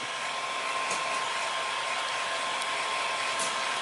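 A heat gun or hair dryer blows steadily on tint film over a Fiesta ST fog light lens, a constant close whooshing hiss with a thin whine, unbroken and without talk.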